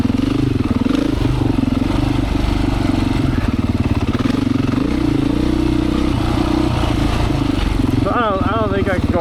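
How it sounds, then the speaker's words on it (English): A Beta 500 dirt bike engine drones steadily and loudly up close as it rides through sand, its throbbing exhaust note holding fairly even with slight surges, and a brief warbling tone appears near the end. "The Beta 500 though, it's really comfortable on this stuff. I don't know if it's the linear power or the geometry, but the bike just loves to flow through the sand"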